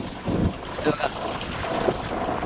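Strong wind on the hilltop at Machal in Lanja taluka, Konkan. It roars steadily and close, buffeting the microphone without a break, with faint sounds underneath.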